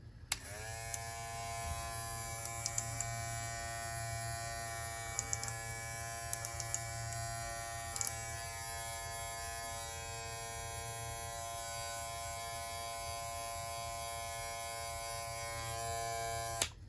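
An electric hair clipper hums and buzzes steadily for the whole stretch, close and even, with a few faint clicks near the start.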